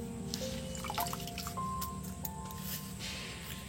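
Muddy water being filtered and poured, soft drips and squishy trickling close by against a faint background hum, quiet and continuous throughout.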